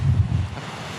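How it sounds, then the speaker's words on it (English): Strong gusty wind buffets the microphone at a Cornwall cliff edge above a rough, choppy sea, with low rumbling bursts and a steady rushing wash of surf beneath. "Yeah, the water's like really rough. Very choppy today. The wind is quite strong."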